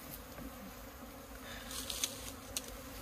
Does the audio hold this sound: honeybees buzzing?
yes